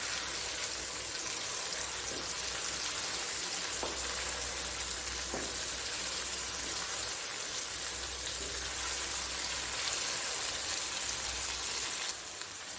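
Egg maghaz masala sizzles in hot oil as it is stirred, a steady close crackle and hiss with occasional soft scrapes of the spoon against the pan, and no talking.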